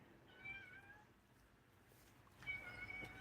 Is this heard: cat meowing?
yes